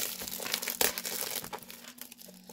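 A plastic packet holding twenty large Clairefontaine envelopes, 16.2 by 22.9 cm in 120 gsm paper, is torn open with close, steady crinkling and rustling and a sharper crackle near the start.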